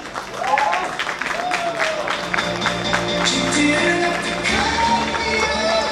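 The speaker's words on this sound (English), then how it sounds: "Huge round of applause, ladies and gentlemen" Audience applause at a named-guest event, a steady wash of clapping running the whole stretch while a voice carries over it.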